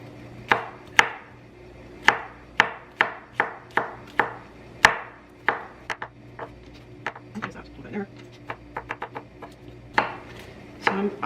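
Knife cuts through a roast on a cutting board, producing a rapid series of sharp chopping knocks against the board that start evenly and then quicken into a dense cluster, close and fairly loud.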